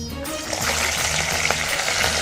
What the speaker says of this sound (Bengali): তেলটা গরম হয়ে গেছে, এবার মাছগুলো ভুচুট করে ছড়িয়ে দেবো।